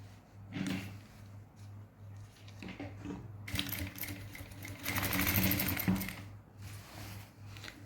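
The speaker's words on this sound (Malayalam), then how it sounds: "ഇനി നമുക്കിത് സ്റ്റിച്ച് ചെയ്തെടുക്കാം." Sewing machine stitching a seam on a pair of straight trousers, a steady close mechanical whir that runs in bursts and grows louder and busier toward the end, with no talk.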